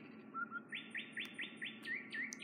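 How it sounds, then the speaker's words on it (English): A small bird tweets a rapid run of bright, repeated chirps, about eight evenly spaced notes over a soft background hum, fairly faint and at a moderate distance. "Listen to that bird tweet."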